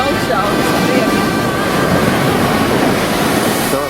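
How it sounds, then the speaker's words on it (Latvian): Ocean waves on the Portuguese coast roar as a steady, loud broadband wash of surf and wind, continuous throughout with no clear individual breaks. "Tāds ir okeāns."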